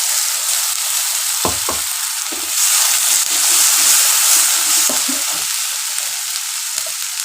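Ground spice paste frying in hot oil for egg dopiaza, a loud steady hiss and sizzle with scattered knocks and scrapes of stirring, no talk.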